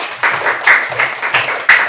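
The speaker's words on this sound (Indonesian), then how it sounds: "Tepuk tangan untuk Raya" Classmates in a classroom clap for Raya, a brief burst of fairly loud, uneven hand claps from a small group of children, close by.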